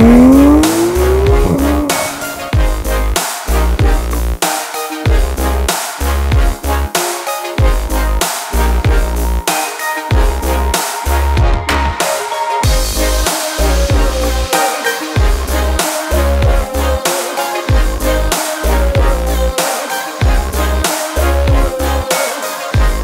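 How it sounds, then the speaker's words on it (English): A brand new Porsche 991 GT3 RS sports car drives on Tuscan roads in November, its engine revving loudly and continuously with repeated sharp cuts and surges, plus a brief tire squeal. "Brand new 991 GT3 RS."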